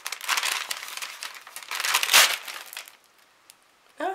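Crinkly plastic wrapping on a package of masking tape rustles and crackles up close in several busy bursts, quietening to near silence before one last short crinkle.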